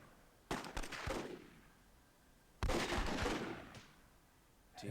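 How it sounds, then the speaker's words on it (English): Shooting in the strategy video game Myth II: Soulblighter during a team match, heard as two loud, crackling bursts a couple of seconds apart, each fading out, with no talk over them. "nice shooting there from Kryptos"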